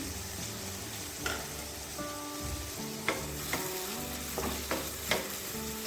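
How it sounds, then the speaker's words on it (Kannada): Onion, tomato and green chilli fry in a pan for a dhaba-style chicken dry dish, a steady close sizzle with several sharp stirring clinks scattered through, no talk. "ಚೆನ್ನಾಗಿ ಫ್ರೈ ಮಾಡ್ಕೊಳ್ಳೋಣ"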